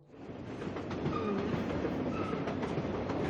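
Trans-Siberian Express train rolling on the rails, a steady, dense rumble of wheels and carriage noise that swells in the first half second and then holds loud and even, with faint squeaks and clicks riding on top.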